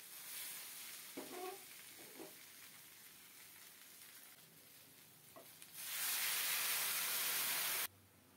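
Boiling water poured into a pan of frying rohu fish with taro, set over a steady background sizzle, with a loud burst of hissing steam lasting about two seconds before it cuts off.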